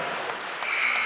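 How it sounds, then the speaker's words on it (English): Wrestling fans clapping in the stands at Xfinity Center Pavilion during an Iowa versus Maryland heavyweight college bout, a brief, moderately distant patter of applause with a faint whistle-like tone near the end. "A lot of claps coming from both Iowa and Maryland fans for these two heavyweights"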